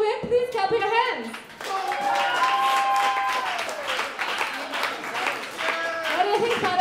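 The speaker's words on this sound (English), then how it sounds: "Bobby, if you want Bobby to win, please clap your hands." A St Patrick's Day comedy show crowd at Santa Fe Brewing Company claps and cheers to vote for comedian Bobby: loud, dense, sustained applause mixed with voices, lasting nearly seven seconds.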